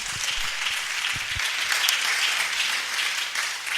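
A church congregation applauds in praise of the Lord at a prayer gathering, a dense, sustained roar of many hands clapping together for several seconds.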